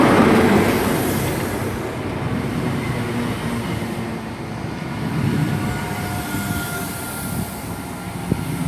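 A Class 43 power car, 43192, pulls a Taunton-bound train into a station platform, a loud, steady rumble of rail and engine that swells and eases slightly throughout with no voices.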